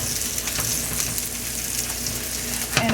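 Steak quesadillas sizzle steadily in a hot pan just after being flipped, a close, continuous crackling hiss with a brief clatter near the end.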